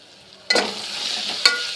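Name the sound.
onions frying and being stirred in a pan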